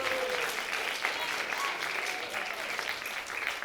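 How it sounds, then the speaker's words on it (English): An audience at the Nantucket Comedy Festival applauds in a continuous, even wash of clapping, moderately distant and unbroken across the short stretch, with faint voices mixed in. "Give yourselves a round of applause"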